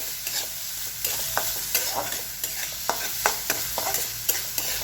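A spoon stirs radish chutney with freshly chopped tender radish leaves in a pan, soft scraping strokes and light sizzling repeating at an uneven rhythm, close and fairly quiet with no talk.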